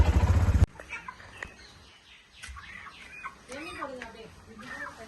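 Chickens cluck in short, scattered calls with a few people talking nearby, after a brief loud burst at the start.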